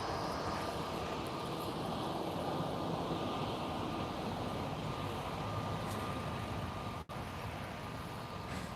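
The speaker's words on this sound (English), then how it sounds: "But first we get to see a landing before any of those decide to take off" A passenger jet lands at Lisbon airport, its engines giving a steady, loud broadband roar that holds evenly throughout, with a single brief dropout near the end.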